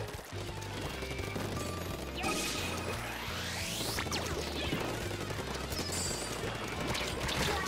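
Ink weapons fire continuously in the video game Splatoon 2, making a dense rapid spray of splats and bursts with whooshing sweeps. It sits over a pulsing game music beat, fairly loud throughout.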